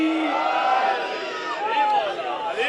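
A gathered crowd at a religious address in Sindh raises a loud, sustained collective chant of Nara-e-Haidari, the voices swelling together over about three seconds.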